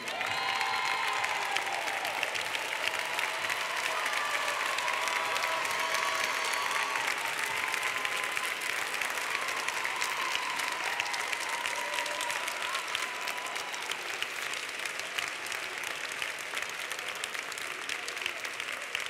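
A large audience at a university graduation ceremony applauds the graduates, sustained dense clapping that fills the hall evenly for the whole stretch with a few faint cheers mixed in.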